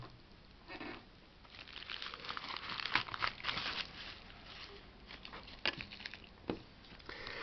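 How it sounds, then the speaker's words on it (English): Paper envelope being torn open and unfolded by hand, a close run of crinkling, rustling and tearing bursts over about seven seconds, quiet and alone with no talk. "I got to open this up off camera as my address is actually on both sides of the envelope."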